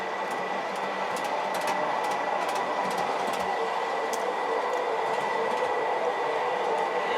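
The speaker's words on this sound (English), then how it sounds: "These are 3 MTH Protosound-3 O-Ga streetcars." Three MTH Protosound-3 O-gauge PCC model streetcars run continuously around a larger layout loop, a steady rolling rumble and whir with faint rhythmic clicks from the track joints and no talking.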